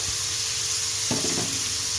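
Pav bhaji vegetables and butter sizzle on a hot tawa griddle, a steady loud hiss throughout with a brief scrape or stir about halfway through.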